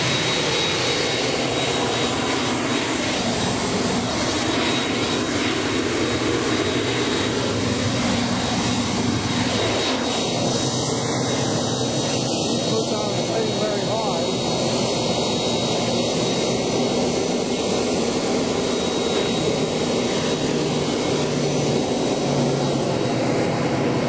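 A Cessna Citation II jet engine runs on the ground, a loud steady roar and whine that holds without a break throughout.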